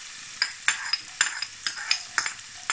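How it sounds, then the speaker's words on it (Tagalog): Onion and garlic sizzle in a hot oiled pan for a Filipino pork binagoongan, a steady frying hiss punctuated by regular scrapes and clinks of a spatula stirring, close and fairly loud with no talking. "gigisa lang po natin ang sibuyas"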